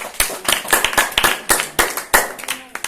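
A student team claps together at a school competition, a quick run of sharp, uneven hand claps close by, slightly ragged in rhythm and loud, with speech mixed in at times.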